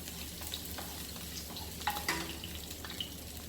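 Garlic sizzles and fries in a pan for a Jamaican-style tomato coconut curry chicken, a steady crackling hiss with a few sharper stirring scrapes and clinks near the middle, no voices.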